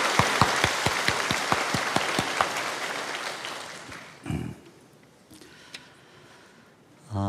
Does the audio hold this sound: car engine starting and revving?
no